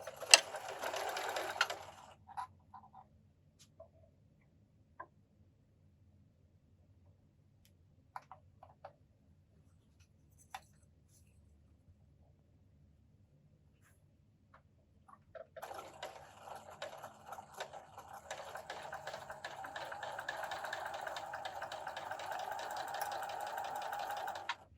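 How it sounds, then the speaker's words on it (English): A sewing machine stitches quilt block units together with a scant quarter-inch seam, running in a short burst at the start and then steadily for the last several seconds, with near silence and faint ticks between. "sew the units together."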